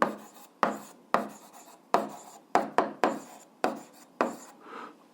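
A pen scratches across paper in short, separate strokes, about ten quick close-up scribbles each starting sharply and fading, with brief pauses between them.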